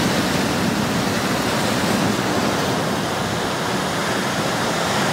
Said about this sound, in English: There's going to be a lot of noise from the ocean.